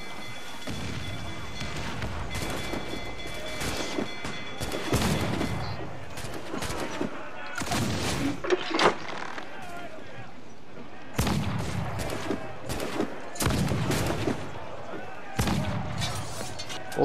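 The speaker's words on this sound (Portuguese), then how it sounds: "o tiro passou direto" Gunfire rings out in Assassin's Creed IV Black Flag during a naval battle, with repeated loud cannon and gun blasts in irregular bursts amid clattering action and someone talking over it.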